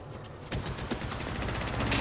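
Dense, rapid gunfire crackles nonstop in Apex Legends, loud and sustained bursts overlapping into a continuous barrage with no voices.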